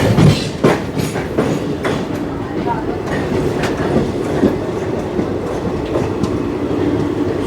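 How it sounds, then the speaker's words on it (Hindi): The Salasar Express passenger train on the Delhi–Jodhpur desert route, loud from inside as it overtakes another train near Raikabagh Palace, with rolling wheel rumble, clickety-clack joints and occasional rattles, and a voice talking briefly over it. "हम लोग किसी ट्रेन को ओवरटेक कर रहे हैं अभी जो रायकाबाद पैलेस पे"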